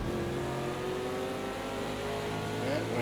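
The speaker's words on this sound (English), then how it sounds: "Right, one car passed." Race car engines in a racing video game, a steady loud drone with rising and falling pitch as a car passes, set on a road course at Texas Motor Speedway.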